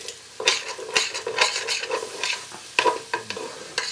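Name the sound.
stirring potato and bacon soup in a pot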